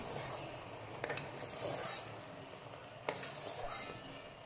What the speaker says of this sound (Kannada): ಎಲ್ಲ ಕಡೆ ಹರಡುವಂತೆ ಚೆನ್ನಾಗಿ ಮಿಕ್ಸ್ ಮಾಡುವ